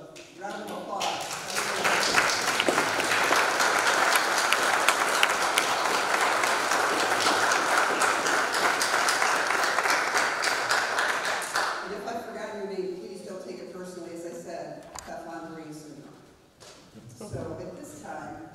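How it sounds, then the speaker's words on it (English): A church congregation claps steadily and loudly for about ten seconds during a service, the applause swelling then thinning out as a voice begins speaking near the end. "At this time, I'd like us all to give a round of applause."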